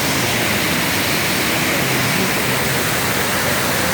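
Cold-water waterfall pouring steadily, a loud, dense, unbroken rush of water filling the whole clip.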